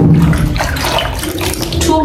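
Fingers dipping into and stirring warm bathwater in a container in the Ugandan countryside, a close, continuous soft sloshing and splashing with no pauses.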